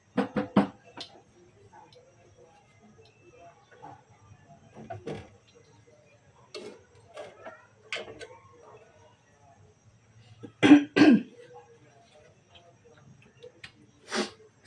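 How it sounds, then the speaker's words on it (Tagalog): Two quick coughs stand out near the end, surrounded by quiet stretches, scattered small clicks and soft, sparse speech. "Excuse me, inuubo pala ako ngayon guys."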